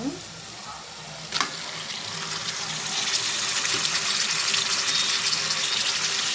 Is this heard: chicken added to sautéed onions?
yes